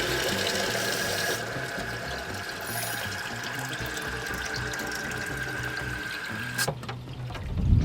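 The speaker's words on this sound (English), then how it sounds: "I'm going to fill this thing with water" Tap water runs steadily and loudly into a container being filled with water and a couple tablespoons of salt for raising baby African cichlids, a continuous close splashing stream that cuts off near the end.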